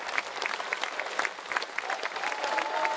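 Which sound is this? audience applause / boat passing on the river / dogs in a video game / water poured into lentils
audience applause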